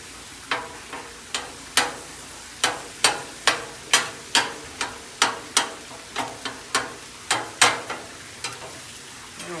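Meat and garlic on a hot griddle being turned and scraped, with a steady sizzle beneath a rhythmic series of sharp metal spatula clacks and scrapes, close and fairly loud, with no talking.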